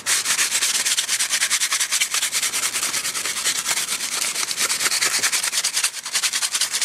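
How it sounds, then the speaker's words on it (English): Aluminum foil soaked in cola scrubs rust off the chrome exhaust of a 1982 Harley FXRS, a fast, rhythmic back-and-forth rasping that is close, loud and continuous throughout, with no talking. "pour some Diet Coke or Pepsi on it, take your aluminum foil, and just scrub."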